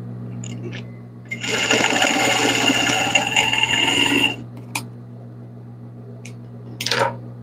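A sewing machine stitches felt for a 24 cm toy rabbit, running steadily for about three seconds before stopping, followed by a few faint handling clicks and a brief rustle.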